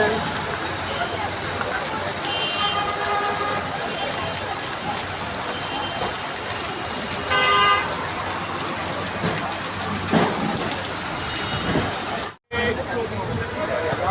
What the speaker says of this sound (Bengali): এখানে প্রচুর বৃষ্টি হচ্ছে, বৃষ্টির ভারী বর্ষণ হচ্ছে